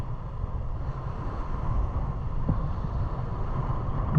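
Strong wind roars steadily over the sea on a boat, a constant low rushing buffet against the microphone with no voices.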